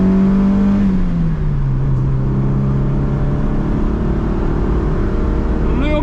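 Loud engine drone from a BMW 3 Series with a carbureted engine under acceleration, its pitch falling and levelling out after a gear change as the car moves along.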